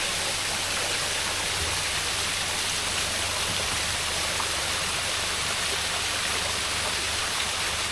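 Steady, loud roar of a waterfall on state natural resources land, a continuous broadband rush of falling water with no voices, unchanging throughout.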